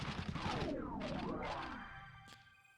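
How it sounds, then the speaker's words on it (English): Cannons firing in the video game Blood Will Tell: a burst of heavy booming shots with sweeping, whooshing tails that fade out over a few seconds, loud and close. "I gotta shoot it. That's why they gave me so many cannons."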